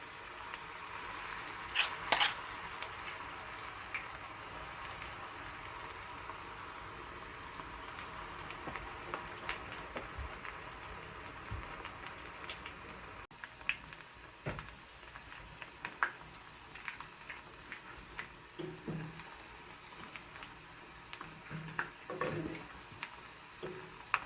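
Green banana fritters frying in coconut oil over medium-low heat, a soft steady sizzle and crackle with small pops, close and fairly quiet, with no talk.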